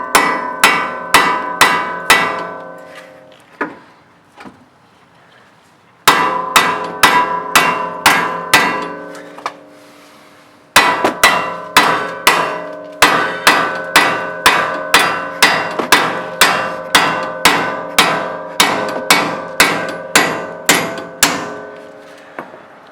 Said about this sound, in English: we're about to have to hammer these bolts out because they're splined